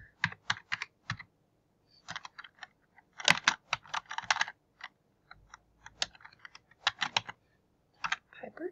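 Bursts of keystrokes on a computer keyboard while an address is typed into a university application form, clustered clicks with short pauses, close and clear with no talking.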